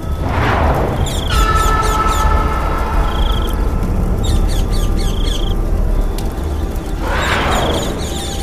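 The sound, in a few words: birds squawking, echoing through the forest (horror story effect)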